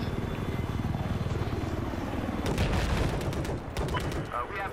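A helicopter in the Battlefield 4 video game thrums with steady rotor chop, then is overtaken by a burst of rapid gunfire crackle in its final seconds, with no talk.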